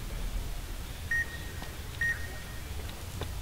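Two short electronic beeps about a second apart in the video game Fallout New Vegas, faint over a low background hum, followed by softer blips.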